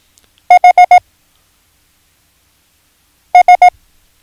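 Morse code letters H and S keyed as clean electronic tones: four quick even beeps, a pause of over two seconds, then three quick beeps, crisp and close with silence around them.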